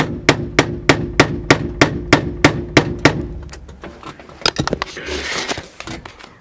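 A hammer strikes a nail into plastic in a steady series of about ten sharp knocks, then a few irregular taps and rustling handling noise.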